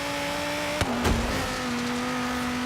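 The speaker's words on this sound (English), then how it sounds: "It's a pretty good sounding V10" A V10 engine in Forza Horizon 3 holds a steady, fairly loud tone as the car accelerates, with a brief sharp click and a thump partway through.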